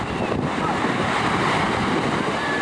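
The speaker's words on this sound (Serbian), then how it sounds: "vrlo je vetrovito. Verovatno se i čuje na kameri." Strong wind buffets the microphone on a street about 30 metres from the beach in Cannes, France, with rough surf behind it, making a loud, steady roar that fills the clip without a break.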